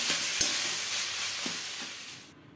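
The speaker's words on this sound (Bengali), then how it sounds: "এবার চিনি দিয়ে খুব ভালো করে মিশিয়ে নেব।" Cabbage curry with coconut, sugar just added, is stirred in a hot pan: a steady close sizzle with scraping spoon strokes and knocks, ending abruptly as the heat or stirring stops.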